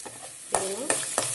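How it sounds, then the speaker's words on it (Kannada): Garlic paste and curry leaves fry in hot oil for a tomato gojju, giving a steady close sizzle broken by three sharp scraping strokes of a stirring spoon. "ಚೆನ್ನಾಗಿ ಫ್ರೈ ಮಾಡಿ."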